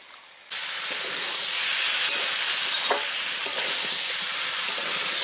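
Ghee hits a pan of chicken curry and breaks into a loud, steady sizzle after a brief quiet start, with stirring adding light scrapes over the continuous hiss.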